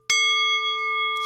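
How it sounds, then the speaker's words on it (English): A ritual bell struck with the wooden end of its striker, giving one sharp, loud strike that rings on as a steady, sustained metallic tone with bright overtones, and a second soft touch near the end. "And by the sound of the bell,"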